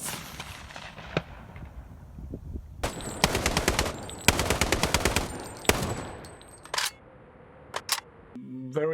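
Guns are recorded for the Sniper Ghost Warrior 3 game: loud bursts of rapid automatic fire and single sharp shots ring out close, separated by short quiet gaps and some faint background voices.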